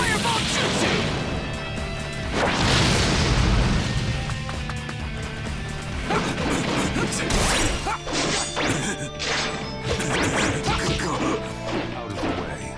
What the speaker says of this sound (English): Fireball jutsu!